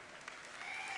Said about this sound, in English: Yeah, you can applaud for guilds.